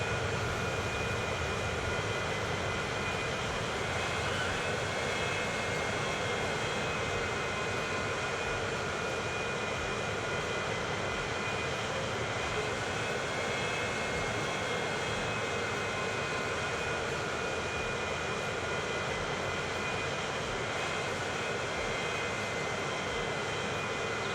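Airplanes circling and landing around a Transport Fever 2 airport produce a long, unbroken jet-engine drone with a steady high whine, even in level throughout and free of speech.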